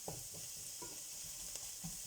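Ingredients brown in a frying pan while cooking peas with eggs, giving a steady, loud sizzling hiss with a few soft stirring knocks under it and no voices.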